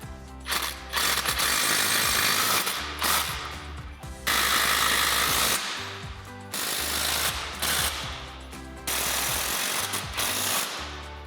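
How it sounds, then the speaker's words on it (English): Impact wrench with a 19mm socket tightening bolts on a Ford F-250 steering stabilizer install, several loud rattling hammering bursts of one to two seconds each with short pauses between, close up, no talk. "we're gonna grab our 19mm wrench and a 19mm socket on our impact, and we'll start with the two middles"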